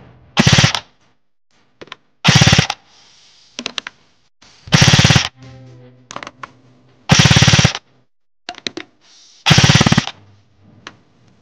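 A Specna Arms CORE airsoft rifle fires in repeated short automatic bursts, sharp rapid rattles separated by brief pauses, close and loud, with a few single clicks and mechanical noises between the strings.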